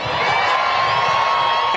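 A big San Jose audience cheers loudly on request at a live show, a steady dense roar of voices and whoops holding at full level for the whole moment.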